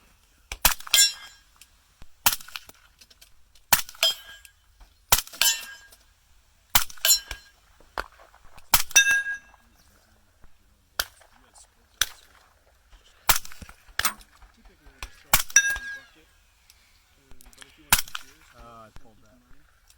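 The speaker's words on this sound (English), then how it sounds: "AAC 762 SDN6 suppressor. Just shooting out today, doing plinking" A 300 Blackout short-barreled rifle with a 10-inch barrel and AAC 762 SDN6 suppressor, fired during plinking: about a dozen sharp, cracking suppressed shots spaced at irregular intervals of one to two seconds, each trailing a brief ring, with near silence between.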